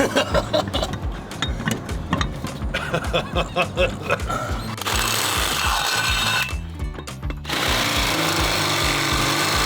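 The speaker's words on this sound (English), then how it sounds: "Let's drill some holes." A power drill bores into material in loud bursts, first in short rhythmic pulses, then a longer sustained grinding run with a brief pause.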